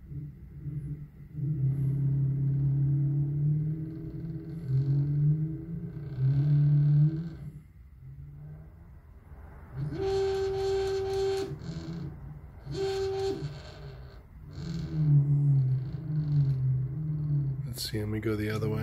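A Z-axis motor slowly raises or lowers the head of an Emco mini mill, a low humming drone that starts and stops several times, broken by brief louder whirring bursts, with a person talking between the runs.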